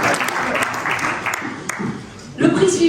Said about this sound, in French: applaudissements quand même pour Thierry Solaire